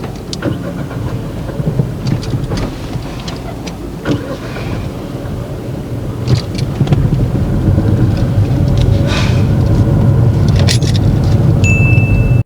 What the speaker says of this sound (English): Here Erika brings the clutch pedal up too quick and stalls.